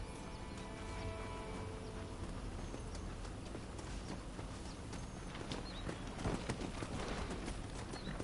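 Horses' hooves clip-clop steadily over open ground in Red Dead Redemption, a continuous trotting rhythm under a faint wash of ambient wind, with occasional bird calls.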